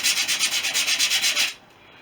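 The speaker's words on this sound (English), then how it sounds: "just roughing up the plywood just a light sand" Plywood for aircraft wing work is hand sanded lightly across the grain, giving about a dozen rapid, even rasping strokes up close before the rubbing stops abruptly.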